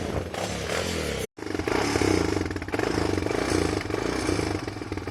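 A Honda Recon 229cc ATV engine runs hard at throttle, a loud, close, raspy motor drone that cuts out for an instant, then resumes with rattly mechanical clatter.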